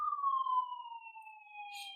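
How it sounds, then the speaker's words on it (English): A single siren tone slides slowly downward, clear and moderately loud against silence, with a faint hiss near the end. "Oh, we've got a lot of sirens going on."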